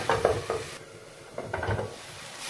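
Onions frying in a pan for a spicy mutton curry, with a spatula stirring and scraping in short bursts over a soft sizzle, close and moderately loud.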